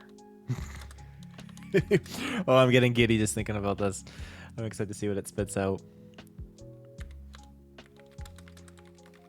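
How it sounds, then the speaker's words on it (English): Someone talks excitedly while keyboard keys clatter in short bursts of typing, which continue as sparse clicks after his voice stops. "I can hear you typing away over there"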